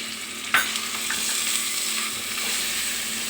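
Ground bottle gourd leaf paste stir-fries in a pan with a constant close hiss. One sharp scrape of the spoon comes early, then the frying goes on evenly with no voices.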